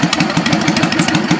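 Close, loud running of a 2008 Yamaha V-Star 650 motorcycle engine, a quick regular chugging pulse that holds steady through the short stretch.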